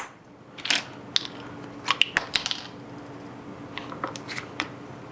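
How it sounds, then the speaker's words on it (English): Plastic shaker cap tops being screwed down snugly onto hot sauce bottles, giving a few close, scattered clicks and ratcheting ticks in short bursts over a quiet background. "Just snug those tops down."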